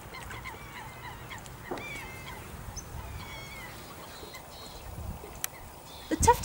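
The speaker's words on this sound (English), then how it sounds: "The mere is home to many species of waterfowl." Geese and other waterfowl honk and call across an open mere, scattered faint calls over steady outdoor ambience, with a few louder honks near the end.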